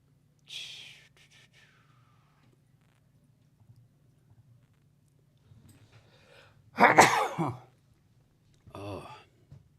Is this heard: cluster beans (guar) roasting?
no